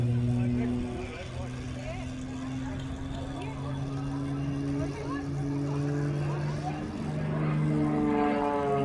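Extra 330LX aerobatic propeller airplane flying an airshow routine, a steady droning engine with a sustained hum that holds through the whole stretch, moderately distant and under continuous talk.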